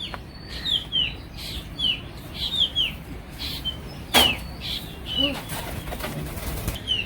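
A pair of pigeons at a village home flap their wings in short bursts amid scattered chirps and calls, with one sharp loud clap partway through; no clear speech.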